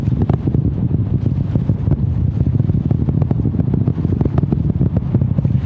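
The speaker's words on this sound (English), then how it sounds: "Main engines throttling up, guidance converged." NASA SLS rocket main engines during the Artemis II launch, a loud, constant, crackling roar with a rough buffeting texture, heard alone without speech.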